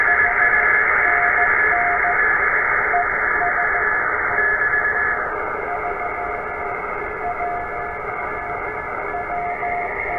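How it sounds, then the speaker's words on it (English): A TR45L radio receiver tunes across stations, giving steady hissing static with sustained carrier tones that shift pitch partway through, with no voices heard. "There's a couple stations in there. You hear them."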